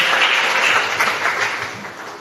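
A congregation clapping and applauding loudly to acclaim the Lord, a dense, sustained roar of many hands that eases off slightly toward the end.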